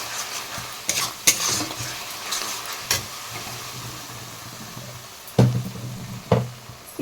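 Mushroom and fish curry in the Odisha style is stirred in a pan, with a soft continuous sizzle under scattered spoon scrapes and knocks, a few sharper clinks of utensil against pan toward the end.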